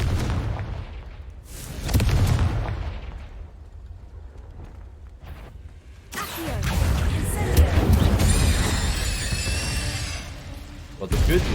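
Confringo fire spells in the video game Hogwarts Legacy produce booming, crackling explosions that swell and fade. Someone talks over parts of them.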